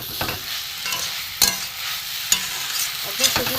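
Banana stem curry with a pinch of sugar is stir-fried in a pan, a close steady sizzle punctuated by three or four sharp metal spatula knocks against the pan amid softer scraping.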